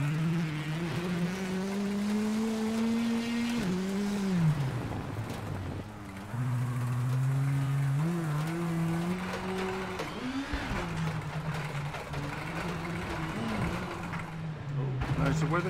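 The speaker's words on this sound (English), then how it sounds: "the engine note still needs a fair bit of work to make it real" A rally car's engine from the WRC 8 racing game drones steadily and loudly throughout, its pitch rising and falling with gear changes, with a voice talking over it.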